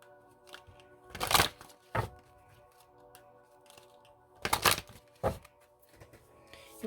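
Oracle cards from the Journey of Love Union deck being shuffled in two bursts of riffling and slapping, with quieter card handling between them and no talking.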